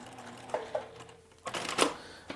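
A sewing machine quilting through a fabric cat bed gives two brief stitching bursts, then a longer, louder run of rapid stitching. The sound is close and fairly quiet, with no talk.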